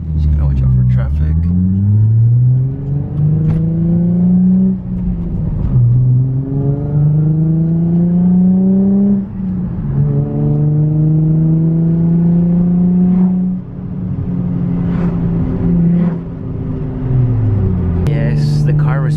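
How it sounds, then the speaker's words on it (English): Infiniti G35 coupe with a stock intake and a Blox plenum spacer, its engine revving and accelerating loudly up through several gears, rising pitch sweeps broken by shift drops, heard from close inside the car. "Just gonna try to accelerate the car and see what we have."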